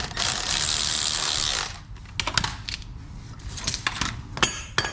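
A ratchet wrench tightens bolts on a Ford Aerostar, a dense run of clicking followed by scattered short clicks and clanks, close by.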